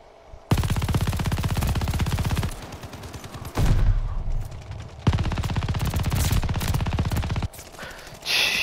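An MG42 machine gun in Call of Duty Vanguard fires long, loud, rapid bursts of densely packed shots. Brief pauses and echoing tails separate the bursts.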